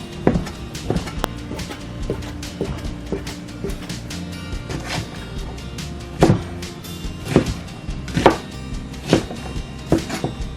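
A knife chopping food on a board, spinach and sausage or bacon for a spinach frittata, as a series of irregular sharp taps that grow louder and more frequent toward the end.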